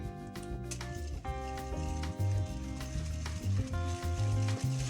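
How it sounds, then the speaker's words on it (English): Sugar and six egg yolks are beaten together in a bowl for an orange almond cake, making a continuous wet, churning whisking sound that stays close over soft background music. "I'm going to beat the sugar together with the yolks"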